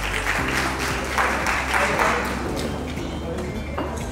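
Audience applause for an award recipient at an achievers award ceremony, steady crowd clapping over a loud low hum and music-like tones, with a voice speaking over it.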